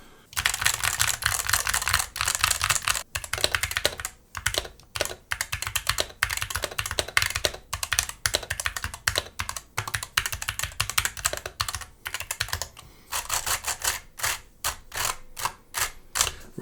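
Continuous fast typing on an AEON AC61m aluminium keyboard with pre-lubed switches, close and steady, with a few brief pauses and a more spaced-out burst of keystrokes near the end.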